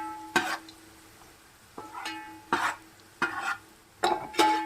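Fried onion for prawn biryani is handled in a pan of hot oil. A low sizzle runs under five or six sharp scraping strokes of a spoon against the metal at irregular intervals, close and moderately loud.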